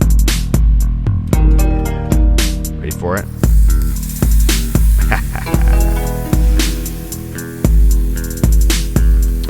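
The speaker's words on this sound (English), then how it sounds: "putting the meat onto the grill." Marinated meat goes onto a grill amid a loud, rhythmic backing beat, with a brief hiss under the music and a voice speaking over it.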